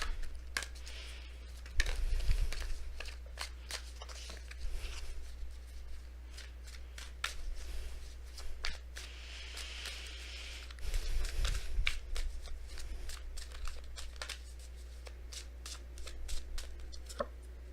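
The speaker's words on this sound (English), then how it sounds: "if I can shuffle these cards" Tarot oracle cards are shuffled by hand over and over, a close, crisp riffling and flicking that goes on steadily for a long stretch, with a low hum underneath and no talking.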